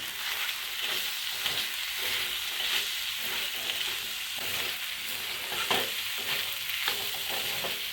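Spices with turmeric being sautéed and stirred in a pan for a village-style snail curry, a continuous frying hiss with rhythmic scraping strokes of a spoon, close and steady without speech.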